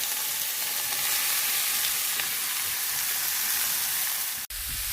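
Chopped banana blossom and onion fry in a pan with a loud, continuous, hissing sizzle that holds steady throughout and briefly dips near the end. No one speaks.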